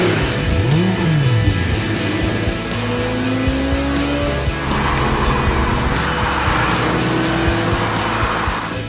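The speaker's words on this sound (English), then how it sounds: "get out here on a world-class racetrack in a world-class sports car" Audi R8 sports car with quattro all-wheel drive lapping the Sonoma racetrack, its engine note climbing and shifting through gears as it passes, with tire squeal and a continuous loud roar and no talking.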